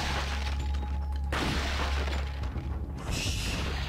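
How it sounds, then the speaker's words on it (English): A flashbang grenade detonates in the video game Resident Evil 4, a sudden bright shattering burst that cuts sharply through a steady low game background, followed by fading crackle. "Flashbang!"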